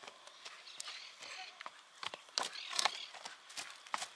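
Chestnut horse trotting comfortably outdoors in open pasture, a run of light irregular hoof clops, fairly faint against background noise and insect buzz.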